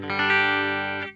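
A single sustained, clean electric guitar chord from a Gibson SG on the bridge pickup rings out brightly with a chiming tone, holding steady before quickly fading at the end.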